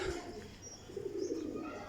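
Soft cooing of Kaldumba pigeons, a low rolling call repeated a couple of times, close by and fairly quiet.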